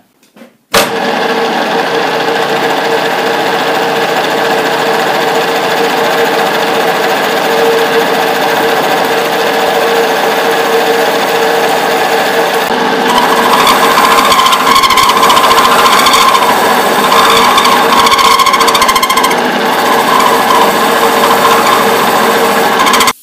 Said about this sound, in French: je vais découper mon trou de 50 et je vais manger une partie de la cloison pour augmenter un peu mon trou